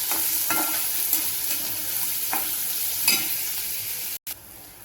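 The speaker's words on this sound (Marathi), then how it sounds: "कांदा पण चांगला असा भाजून घ्यायचा लालसर।" Medium-sized onions frying in hot oil in a pan, a steady close sizzle with occasional stirring scrapes and crackles, briefly dropping out near the end.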